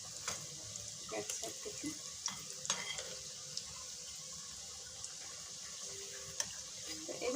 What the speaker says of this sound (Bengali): তা এইভাবে করে আমি ভেজে নিচ্ছি